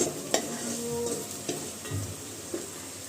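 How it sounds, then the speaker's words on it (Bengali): Onions frying with whole garam masala in a pan over lowered heat, a continuous close sizzle with a few knocks and scrapes of a spoon against the pan. "পেঁয়াজটাকে ভালো করে ভেজে নিচ্ছি"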